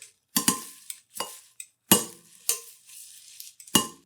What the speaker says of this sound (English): Just going to give it a toss to combine and make sure everything's nice and coated.